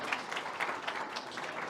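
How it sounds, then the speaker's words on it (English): A gathering at a religious celebration gives a faint, fairly distant round of steady applause for three people returning to their seats. "Give 3 of them a round of applause until they sit."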